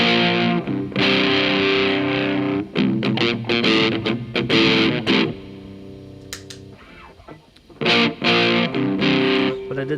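Distorted electric guitar through an AmpFister overdrive pedal with gain lowered, playing chords and riffs with a slight, spacious reverb-delay tail, loud and close, with brief pauses between phrases.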